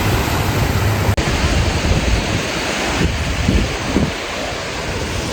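Ocean waves on the beach at Galveston, a dense continuous surf roar mixed with gusty wind buffeting the microphone, one brief dropout near the start, no voices.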